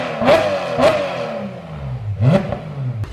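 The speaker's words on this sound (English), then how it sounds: "Can you get a quick exhaust clip of me revving?" A modified car's engine revs sharply through its exhaust, held near a rev limiter: three quick throttle blips, each rising and then falling away, close and fairly loud with no talk over them.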